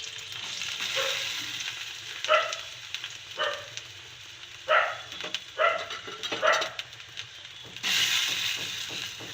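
Onion and tomato frying in a little oil, a steady close sizzle broken by several bursts of scraping and clatter as the pan is stirred, with a brief louder frying swell near the end.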